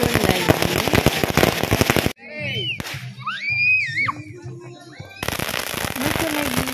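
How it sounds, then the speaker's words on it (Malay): Firecrackers set off at a Hari Raya open house: a dense string of rapid close pops, then a gap filled with whistles, shrieks and voices, before the crackling bursts resume. "Mercun lagi."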